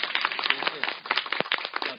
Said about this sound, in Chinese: 给他们掌声，谢谢老师